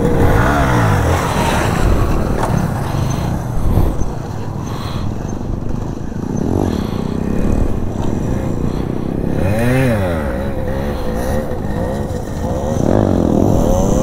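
A motorcycle engine revs hard and steadily while the rider pulls a wheelie on a practice run, loud and close, with throttle swells rising and falling throughout; muffled voices are faintly audible under the engine.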